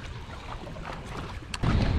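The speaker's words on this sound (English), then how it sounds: "I got the wind blowing up in here." Wind blows across an open lake during bass fishing from a boat, a short gusty rush with a louder buffet of wind on the microphone at the end, no voices.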